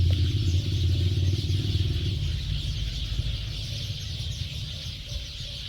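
A flock of little birds keeps up a dense, noisy chattering racket outdoors, loud and continuous with no pauses, mixed with some low background rumble.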